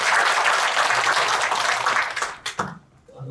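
Audience applause welcoming arriving guests at a Korean community committee launch ceremony, dense clapping that holds steady then breaks up and fades into a few scattered claps near the end.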